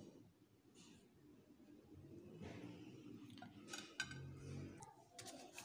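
A knife runs around the edges of a dish to loosen set jello, giving faint scraping and clinking taps of metal against the dish, close by in a quiet kitchen.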